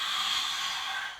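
A long, forceful exhale during yoga, a steady airy rush held close and loud for over a second before tapering off, with no talking.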